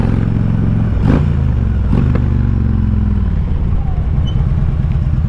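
Harley-Davidson touring motorcycle being ridden, a loud steady engine drone close up with a couple of brief clattering bumps and a slight drop in revs toward the end.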